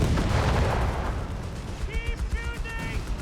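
Artillery bombardment and gunfire in the Company of Heroes 3 strategy game: a dense, continuous rumble of blasts and shots fills the mix, with brief tonal voice-like sounds surfacing toward the end.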